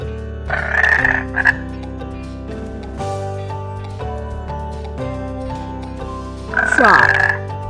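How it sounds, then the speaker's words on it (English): Frog croaks come in two short loud bursts, one early and one near the end, over a steady background of layered tonal music. "frog"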